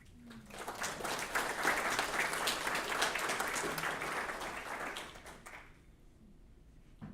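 Audience at a celebration-of-life memorial gathering claps steadily for several seconds, a dense, moderately loud patter that fades out toward the end, leaving near silence.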